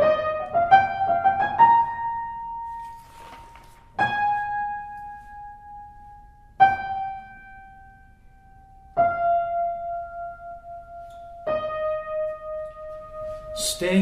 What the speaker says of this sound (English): Here comes our oboe.